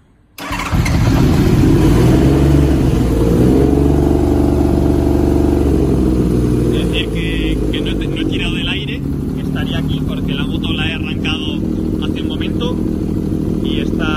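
A Honda CBX 1000 cafe racer motorcycle engine cranks and catches, then settles into a loud, steady running rumble close by.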